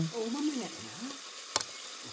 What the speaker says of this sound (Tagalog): Yun na, piniprito na.